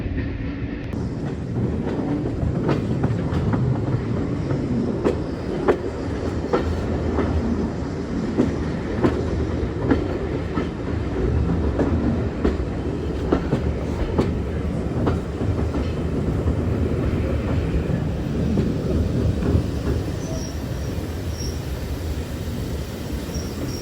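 A heritage train runs along the West Somerset Railway at an autumn steam gala, with a steady rumble and rhythmic clickety-clack of carriage wheels on the rails throughout, heard from on board.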